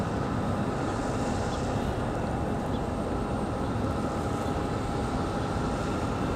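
Jet airliner engines run steadily at an airport, a JetBlue aircraft readying to depart at Raleigh-Durham International, giving a continuous broadband roar at moderate distance with no talk.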